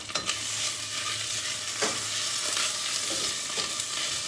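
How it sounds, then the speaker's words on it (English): Poppy seeds frying in hot oil for a home vegetable dish, a steady soft sizzle with a few sharp pops and crackles spaced through the clip, no voices. "You see the poppy seeds are popping a little"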